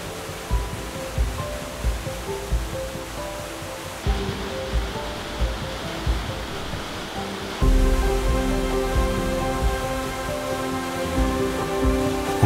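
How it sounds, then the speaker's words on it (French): The Cascade des Combes, a ten-metre waterfall in the Jura, drops into a green basin in the middle of a forest. Its water makes a steady, broad rushing roar with soft tonal sounds layered over it, and the level jumps at a couple of abrupt cuts. "la cascade des Combes est une chute de 10 mètres dont l'eau s'écoule dans un bassin vert en plein milieu de la forêt"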